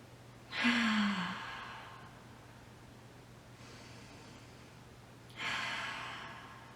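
Big, slow, deep breaths during a kids' meditation, with two long, soft exhales clearly audible and a fainter one between them, heard close against a quiet background hum.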